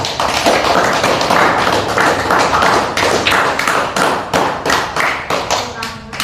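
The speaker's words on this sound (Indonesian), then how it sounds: "Tepuk tangan untuk kelompok A." In a classroom lesson, pupils applaud for group A with a burst of clapping mixed with thumping taps, loud and close, the clapping pulsing in uneven waves and trailing off toward the end.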